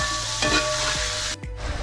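Onions and masala sizzle in a pan for chicken roast while a spoon stirs them, a steady close frying hiss with soft scraping strokes and a brief pause near the end.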